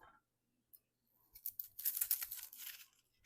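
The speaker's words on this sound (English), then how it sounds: "I'm just going to peel this onion." Crinkly tearing and rustling of papery purple onion skin being peeled by hand, a few faint taps first, then a denser close burst of crackling, with no talking.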